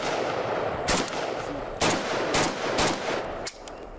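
Kalashnikov rifle fired at a 25-yard range: five sharp, loud shots in an irregular sequence, each a sudden crack over steady background noise.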